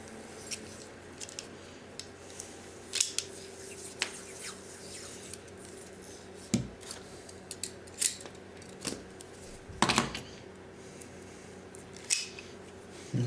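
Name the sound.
wrapping electrical tape around brass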